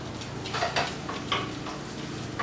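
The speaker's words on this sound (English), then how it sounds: "So let's go ahead and cook our garlic and our ginger." Garlic and ginger sizzle in hot oil in a pan, a steady crackling hiss with a few sharper spatters and light scraping of a utensil close by.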